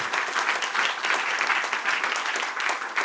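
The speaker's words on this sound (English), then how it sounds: "give a first round of applause to our speakers" Conference attendees at a European AI event give the speakers a round of steady, dense applause, many hands clapping evenly and fairly loudly for a few seconds.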